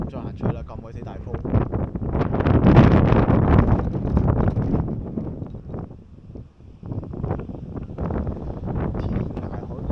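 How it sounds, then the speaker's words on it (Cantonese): Strong coastal wind buffets the microphone on Po Toi Island near the Nam Kok Tsui lighthouse, a loud continuous roar that swells and dips across the whole stretch. "鬼死大風。"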